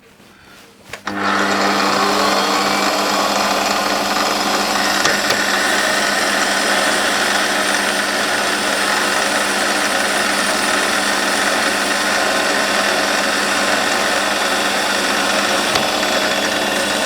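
A metal lathe takes a final light skim cut on a small metal burner part for a model steam engine, starting after a brief moment and then running as a steady, loud whir with no talk.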